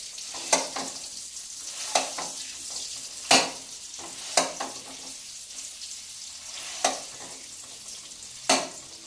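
Paneer pieces fry in a pan with a steady hiss and sizzle. About seven sharp spatula knocks and scrapes ring out at irregular intervals, close and clear, with no voices.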